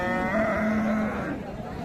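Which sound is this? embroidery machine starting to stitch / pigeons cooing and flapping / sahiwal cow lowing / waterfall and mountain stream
sahiwal cow lowing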